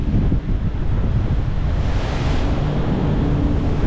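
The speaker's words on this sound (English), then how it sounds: "It's blowing, guys." Strong gale-force wind buffets the microphone on the open deck of the Malta to Gozo ferry in choppy seas, a loud, continuous roar with rushing wash and no pauses.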